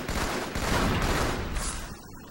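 Gunfire in the Halo Team Slayer match on Beaver Creek, a loud rapid burst of shots that fades out near the end.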